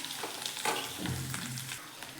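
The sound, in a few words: egg curry masala frying in oil in a kadhai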